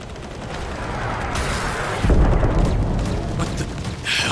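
Dense bursts of gunfire and booming explosions over a steady roar of noise in the video game Contra: Operation Galuga, with a heavy blast about midway as a helicopter is hit and sustained rattling afterward.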